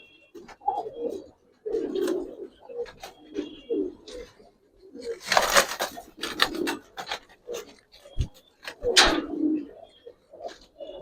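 Giribaz and coloured pigeons coo in repeated soft bursts close by, with rustling and a few sharper scraping noises in between.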